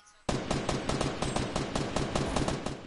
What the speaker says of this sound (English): Are you getting shot at?